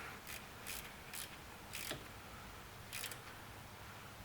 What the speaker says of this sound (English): I'm going to take my ratchet and start tightening it, but not too tight because I don't want to over torque it